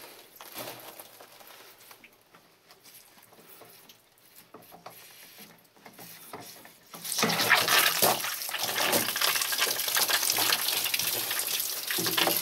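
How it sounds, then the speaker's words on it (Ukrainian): Water gushes from a pump station pipe while its pressure gauge is being replaced. Scattered mechanical clicks and scrapes come first, then a loud, steady rush of draining water sets in partway through and continues to the end. "Трошки води має збігти."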